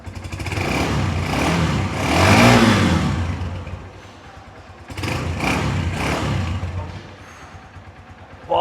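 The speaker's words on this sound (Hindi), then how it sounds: "चलिए अब रेव अप करते हैं थोड़ा सा।" A 2025 Honda CG 150 motorcycle engine is revved in two loud, close swells, each rising and falling back to a brief idle.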